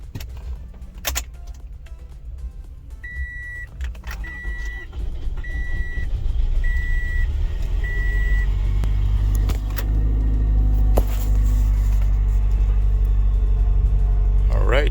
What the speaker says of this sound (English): the car successfully started